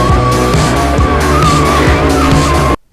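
A supercharged 2017 Roush Mustang RS2 launching hard, tires squealing in a loud sustained screech over the straining engine. Close and intense for almost three seconds, then it cuts abruptly to near silence.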